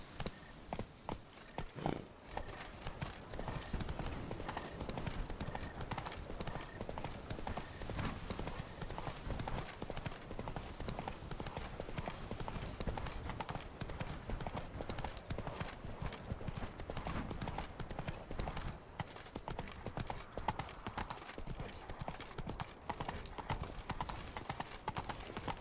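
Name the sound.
Roach the horse's hooves clip-clopping, from the Witcher 3 video game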